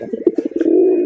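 A pigeon coos close by in a short run of throaty pulses that settle into one sustained, resonant coo, loud and alone.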